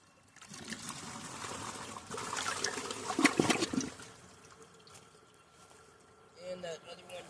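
A 1995 Mansfield Alto toilet flushes with a loud rushing whoosh that peaks midway. It then settles into a quieter trickle of refilling water, with a brief gurgle near the end.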